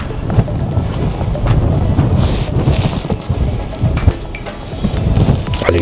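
Steady wind rushes across the microphone with a rough, rain-like hiss at a high spot over Cullera, loud and continuous, with no one speaking.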